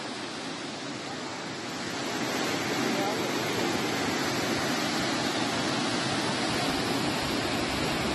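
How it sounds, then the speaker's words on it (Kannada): Loud, steady roar of water released through the crest gates of the full Narihalla reservoir in Sandur, Ballari, Karnataka, during heavy rain; a dense continuous wash that swells slightly after the first couple of seconds and holds without a break. "ಕ್ರಸ್ಟ್ ಗೇಟ್ಗಳ ಮೂಲಕ ನೀರನ್ನ ಬಿಡುಗಡೆ ಮಾಡಲಾಗ್ತಾ ಇದೆ"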